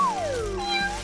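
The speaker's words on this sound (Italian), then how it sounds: "Chi è che miagola?" A cat meows once in a long, drawn-out, falling cry, close and clear, with nothing else heard.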